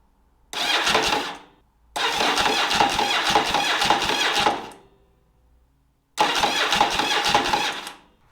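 A Yamaha Virago motorcycle, freshly reassembled, cranks and fires in three separate bursts, each a loud churning engine roar lasting one to three seconds and separated by short silences, with no speech.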